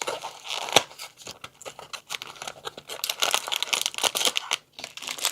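Taped plastic packaging from a knockoff LEGO set crinkles and crackles up close, a dense run of rustling and tearing bursts with one sharp snap near the start and a brief pause toward the end.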